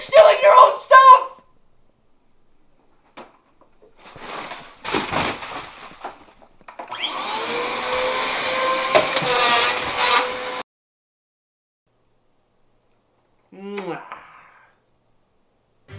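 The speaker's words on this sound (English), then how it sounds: "The Poltergeist 3000, aka Luigi's f***ing vacuum, is pretty freaking cool." Luigi's Poltergeist 3000 vacuum from Luigi's Mansion 3 roars in a sustained whooshing burst lasting several seconds, framed by brief game sound effects before and after.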